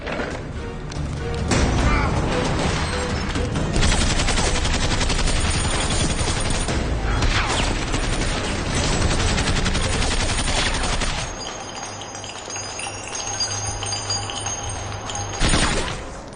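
Sustained bursts of gunfire in an action film, dense rapid volleys that rattle on loudly for several seconds, then fall away to a quieter stretch with a faint tone before a last sharp burst.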